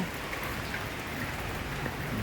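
Hail falls in Tel Aviv, making a dense, even patter of icy pellets on surfaces that holds steady throughout with no voices.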